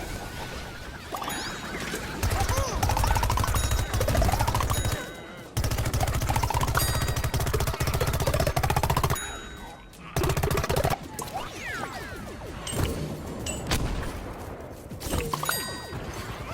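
Rapid bursts of pea-shooter fire against zombies in Plants vs Zombies: Battle for Neighborville, a dense run of shots and game effects broken by a few short pauses, with pings and clanks layered over busy game music.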